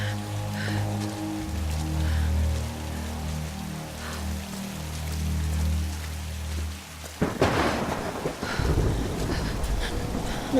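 Steady rain pours with low thunder rumbling beneath in Tomb Raider (2013), then a loud, close crack of thunder breaks out and keeps rolling over the downpour; no one talks.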